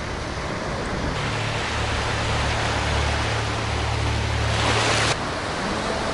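Ocean surf on a beach in Kaohsiung, Taiwan, a steady loud wash of breaking waves with a low rumble, swelling into a bigger crash near the end before settling back.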